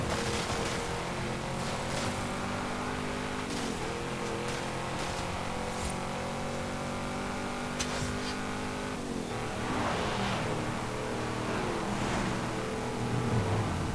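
A car engine drones and revs steadily in Forza Horizon 5, a sustained rising and falling motor tone with gear changes, loud and continuous, with no talk over it.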